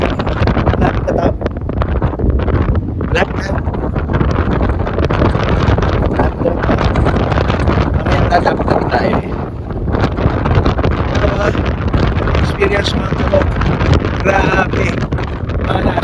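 Strong wind buffets the microphone in a constant loud roar for the whole stretch during a downhill kart ride, with a voice occasionally audible beneath it.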